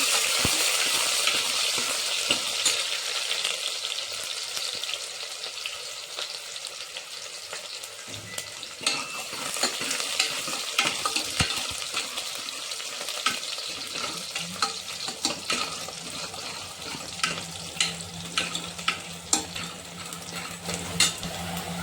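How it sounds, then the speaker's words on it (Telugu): Onion pieces and mustard seeds fry in a pan. A close, steady sizzle carries on throughout, with frequent clinks and scrapes of a spoon stirring against the pan, and the stirring grows more active in the second half. "తర్వాత ఒక స్పూన్ ఆవాలని వేసుకొని అది వేగిన తర్వాత మనము కట్ చేసి పెట్టుకున్న ఈ ఉల్లిపాయ ముక్కలు వేసుకోవాలి"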